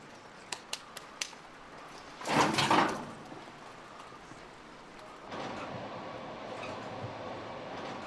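Suburban train passing: a few sharp clicks, then a loud rushing roar surging for under a second, followed by a lower sustained rumble of rolling cars, moderately distant.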